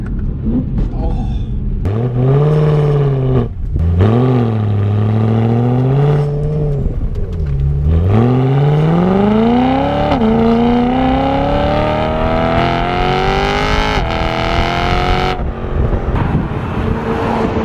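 A BMW E92 M3 fitted with a loud new exhaust accelerates hard through several gears. The engine roars up and drops at each shift, then builds into one long climbing pull that stays loud and close throughout.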